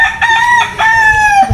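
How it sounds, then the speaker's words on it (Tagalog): A rooster crows loudly and close by, one full cock-a-doodle-doo lasting over a second with no other sound in the clip. "Ayun yung manok."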